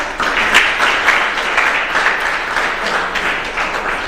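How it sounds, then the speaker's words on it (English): An audience at a Zambian SME conference and expo applauds for a priest, a steady, dense round of clapping that holds evenly throughout. "So let's please give a clap for Father"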